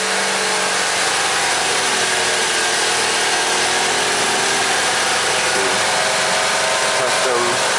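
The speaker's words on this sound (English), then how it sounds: "You want to just rev it up a little bit, see if we get a change in command, Jim?" A Chevy Equinox engine is revved and held steady at about 2,000 rpm, giving a continuous, even mid-pitched drone close by with a brief rise near the end.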